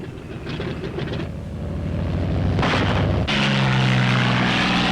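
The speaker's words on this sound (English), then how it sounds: "They set out to meet the bombers, followed by twin-engine lightnings" Piston engines of WWII Thunderbolt fighter aircraft drone loudly and steadily, building as the planes pass close, with a deep throbbing propeller roar that swells further near the end.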